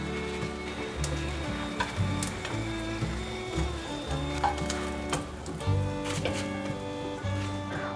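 Pieces of vegan cod made from cabbage and seaweed sizzle steadily in a frying pan, a soft continuous crackle beneath a layer of background music.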